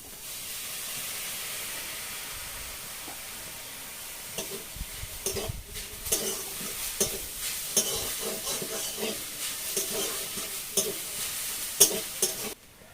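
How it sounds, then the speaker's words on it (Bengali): Maida and coconut mixture with a little milk being stirred in a pan, giving close scraping and gentle sizzling strokes that grow busier and more rhythmic after a steady hiss at the start. "প্রথমে একটু নেড়ে নেবো, দিয়ে আমি অল্প করে দুধ দেবো।"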